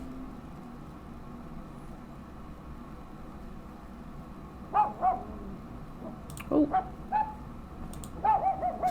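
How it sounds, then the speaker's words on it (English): A feisty dog barking in the Hercule Poirot: The London Case video game, several short yapping barks in small clusters over a steady low background hum, with a brief exclamation from a person. "Someone's got a feisty dog in there."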